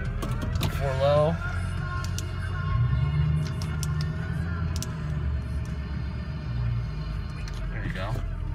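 A four-wheel-drive vehicle engaged in four low rolls forward with a steady, loud low-end engine rumble and mechanical drone, a voice briefly speaking over it near the start and end.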